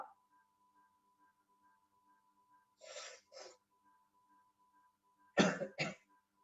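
Two bursts of coughing, a double cough followed later by a louder, harsher pair, close by over a faint steady electronic tone.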